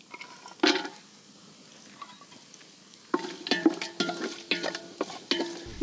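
Cashews go into hot ghee in a well-heated pan for a ration-style biriyani, with an early clink and then a stretch of repeated scraping, stirring and light sizzling close by.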